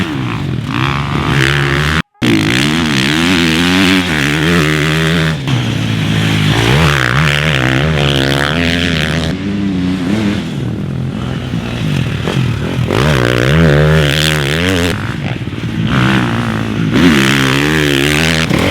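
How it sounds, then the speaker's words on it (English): A 2018 KTM 350 SX-F motocross bike riding laps, its four-stroke engine loud and close, revving up and down continuously with brief clatter and a short cutoff near the start. "We just got done spinning laps on the 18 KTM 350"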